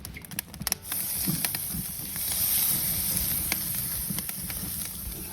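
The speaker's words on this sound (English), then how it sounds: "and a very quick sear on the tomahawk" A tomahawk steak sears on a Kamado Joe grill at about 350 degrees, giving a steady close sizzle and hiss after a few clattering knocks at the start.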